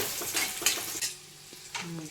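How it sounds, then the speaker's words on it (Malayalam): Chopped garlic, ginger and green chili fry in coconut oil for a crab curry, giving a bright crackling sizzle with a few short stirring scrapes and utensil taps close by. "അരിഞ്ഞ് വെച്ചിരിക്കുന്ന വെളുത്തുള്ളി, ഇഞ്ചി, പച്ചമുളക് ആദ്യം വെളിച്ചെണ്ണയിലോട്ട് ഇട്ട് കൊടുക്കുക"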